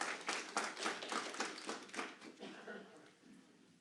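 Audience applause at a council meeting, a burst of brisk clapping from a small group in a room that thins and fades out over a few seconds.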